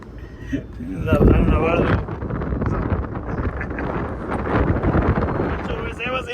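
Strong wind buffets a phone microphone held up in a cable car stopped midway along its ropeway, a loud, continuous roaring rumble that swells and gusts throughout, with voices faintly mixed in.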